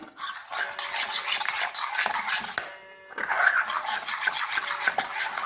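A spoon stirs a mango yogurt mixture for homemade aam doi, scraping in quick repeated strokes against the container. The scraping continues close up, with one brief pause midway.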